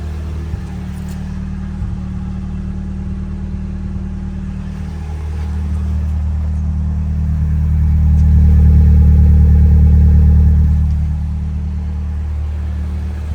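An abandoned Nissan 180SX engine runs with a steady low drone, swelling louder midway as it revs up before settling back to a rough idle.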